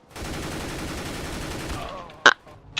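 An M4 rifle in CS:GO fires in a sustained automatic burst, dense rapid shots lasting nearly two seconds, then a single sharp report.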